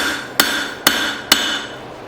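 Three sharp, loud hammer blows from a six-pound hammer forging an old steel file, evenly spaced about half a second apart, each ringing briefly before the next.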